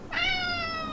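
A single clear cat meow rises and holds for most of a second, close and loud, with nothing else heard around it.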